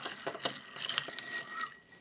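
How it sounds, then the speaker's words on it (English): Bourbon cocktail for a 1906 Morning Glory recipe stirred with ice in a mixing glass, giving faint, light clinks and rattles that come in a loose, uneven rhythm with no talking. "And give it a good stir."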